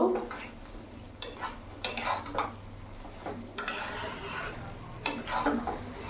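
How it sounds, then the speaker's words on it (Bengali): Fried okra in a mustard-poppy mixture being stirred in a pan over a high flame, with intermittent bursts of spatula scraping and metal clinks, close and moderately loud. "গ্যাসের ফ্লেমটা একটু বাড়িয়ে দিলাম, ভালো করে মিশিয়ে নেব।"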